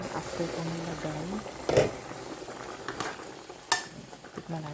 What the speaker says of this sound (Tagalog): Kumukulo na siya after kong nilagay.